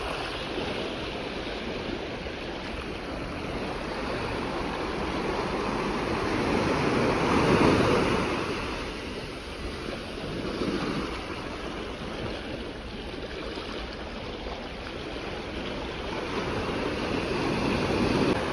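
Surf washes onto the beach at Lovers Bay on Monos Island, Trinidad. The roar is continuous and fairly loud, swelling and easing gently over nearly twenty seconds, with no voices.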